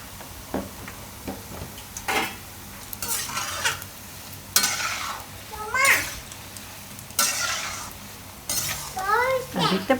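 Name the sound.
pakodi frying in hot oil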